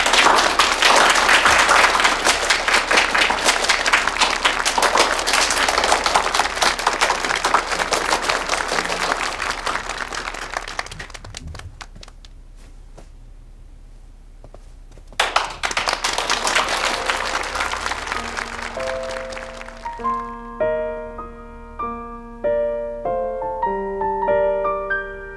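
A crowd at a corporate hotel-acquisition signing event applauds to welcome a speaker: loud sustained clapping fades out, a second burst follows, then light music notes come in.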